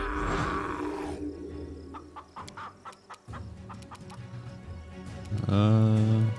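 Chickens cluck in a quick series of sharp, close calls in Pathfinder: Kingmaker, framed by growling creature sounds at the start and a loud harmonic squawk or cry at the end.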